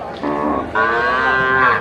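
At a cattle market, a cow lets out a loud, close, drawn-out moo in two connected parts, lasting nearly two seconds.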